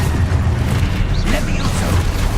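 Loud, continuous blasting rumble from the Expulso explosion spell in Hogwarts Legacy, a sustained booming roar with crackling bursts throughout the short span.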